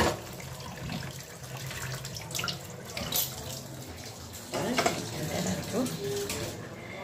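Running tap water splashes over chhana, fresh cottage cheese, as it is rinsed in a kitchen sink, a steady close gush with occasional knocks, while a voice talks over it.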